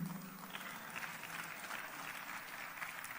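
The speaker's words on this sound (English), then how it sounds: "And I will give you a round of applause, even if I'm alone." A faint, steady patter of clapping from a parliamentary audience at the NCOP, a brief, even burst of applause heard from a distance.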